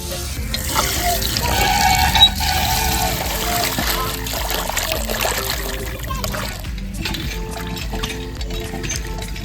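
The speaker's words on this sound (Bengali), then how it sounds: "মাছ কাটা হয়ে গেছে এবার ভালো করে ধুয়ে নিচ্ছি" Cut rohu fish pieces being washed in a basin: running, splashing water sounds steadily throughout, close and fairly loud, with a voice talking over it.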